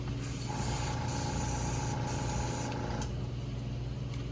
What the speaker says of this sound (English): And then I'll attach just straight solvent, run it through the airbrush